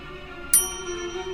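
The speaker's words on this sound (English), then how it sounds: "There's really no need to ring that bell when I'm standing here." Single bright bell ding in Lamplight City, a short sharp strike with a ringing tail over a quiet humming background.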